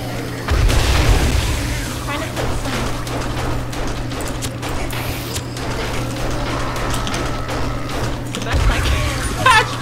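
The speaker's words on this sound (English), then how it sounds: "Well, don't get caught in explosions." Deep booming explosions in the video game 7 Days to Die go off at the start and again near the end, over a continuous low rumble and scattered crackling game noise.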